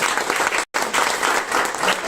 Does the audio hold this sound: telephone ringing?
no